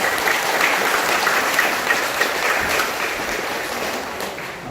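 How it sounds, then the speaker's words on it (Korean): Applause from a congregation at a Buddhist dharma service, a dense burst of clapping that starts loud and slowly thins and fades over about five seconds. "법회에 큰 박수 한번 부탁드리겠습니다."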